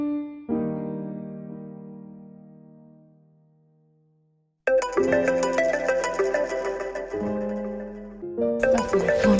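A mobile phone rings with a melodic ringtone: a chime that fades out, then a louder, busier musical tune that plays on continuously and fairly close.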